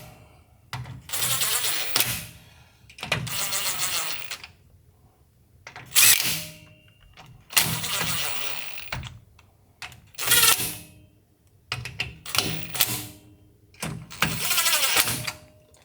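Bolts on a Ford F-series rear differential cover run down in bursts by a power tool, each whine lasting a second or two with short pauses between, repeated about seven times, close and fairly loud.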